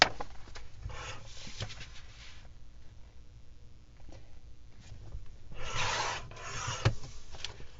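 Paper for a library pocket being trimmed at 5 inches, giving soft rubbing, rasping cuts in a few short bursts close by, with quiet pauses between strokes and no talking.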